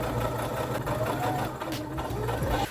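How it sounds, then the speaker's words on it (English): A sewing machine stitches a collar onto a dress neckline, running with a steady, fast mechanical whir and hum, close and alone, for a few seconds. "I'm now going to stitch this down"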